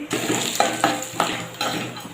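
Tempering spices (cumin, mustard seeds, urad and chana dal, peanuts and dried red chillies) crackle and sizzle in hot oil, with rhythmic stirring strokes every half second or so, close up and with no talking.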